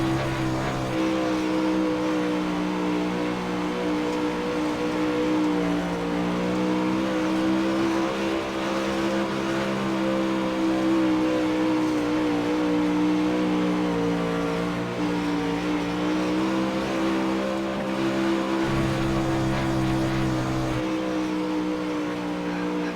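Pro late model race cars lapping Knoxville Raceway in a sim racing game, a continuous loud engine drone with rich harmonics whose pitch swells and dips through the corners, with no talk over it.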